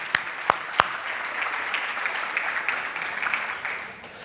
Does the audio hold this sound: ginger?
no